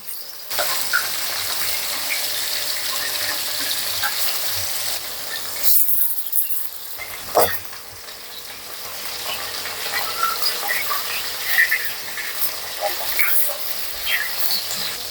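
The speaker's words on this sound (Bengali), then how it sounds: "মাছগুলো আমি এপাশ ওপাশ করে কড়া করে ভেজে নেব" Pieces of rohu fish fry in hot oil with a steady, bright sizzle, broken briefly midway before the crackling resumes with occasional pops and spatters.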